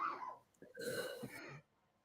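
A man coughing and clearing his throat during a podcast conversation, one rough, harsh burst lasting about a second, picked up close on the microphone.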